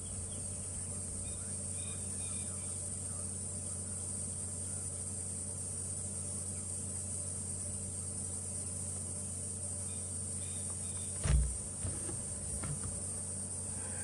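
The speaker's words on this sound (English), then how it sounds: "those are cicadas on hot, humid days like this, and they can become overwhelming" Cicadas drone in a steady, unbroken high buzz on a hot, humid afternoon in the South African bush, a constant wash of insect noise with a brief thump near the end.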